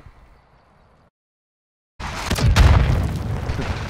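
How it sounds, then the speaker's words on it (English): A rocket explosion in Call of Duty Modern Warfare II hits loud and close after a moment of near silence, then a heavy rumbling boom dies away slowly. "Oh, I just ate that rocket."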